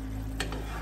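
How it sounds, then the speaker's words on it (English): Pork loin sauce simmering on low heat, a short burst of soft, steady bubbling and sizzle close by with a single light stirring scrape. "Just let that be in a low simmer."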